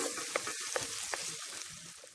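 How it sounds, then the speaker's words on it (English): Tomato, sweet pepper and onion sauté quietly in a pan, a soft steady sizzle with a few light stirring clicks and taps, close but low in level. "The tomato, the sweet pepper and the onion with it before I add in the jack mackerel in it"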